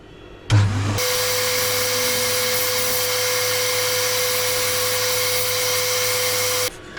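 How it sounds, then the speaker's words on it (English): Steady, loud sanding of a wooden snowman candle holder spinning on a woodturning lathe, a constant whirring hiss with a motor hum that starts abruptly, runs about six seconds and cuts off. "Sanding."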